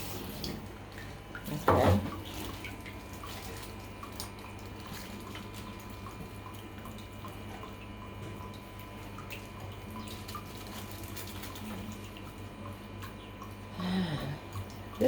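Tap water runs steadily into a sink while okra is rinsed, a soft continuous hiss and trickle with a couple of louder splashes or clunks near the start and end, and a brief spoken word.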